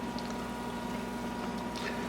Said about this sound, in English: we got some boiling action going on here